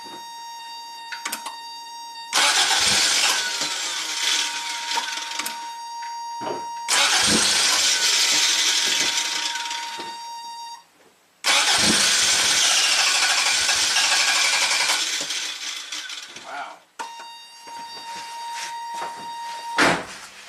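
A 1987 Toyota MR2 engine that stalls when hot, cranking and catching several times, running rough in bursts with the throttle propped slightly open, then dying or dipping between restarts, close and loud.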